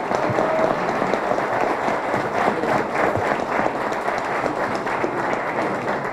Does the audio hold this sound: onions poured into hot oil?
no